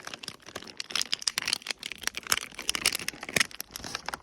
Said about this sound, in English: crumple up a water bottle,